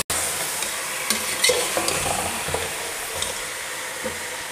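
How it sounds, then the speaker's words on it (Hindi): Beef pieces stir-fried in a kadai give a steady, loud sizzle with scattered clinks and scrapes of stirring, and no voices. "6 से 7 मिनट के लिए इसको मैं भूनूंगी। अच्छी तरह से इसकी भुनाई करेंगे ताकि ये जो है अच्छी तरह से भून जाए"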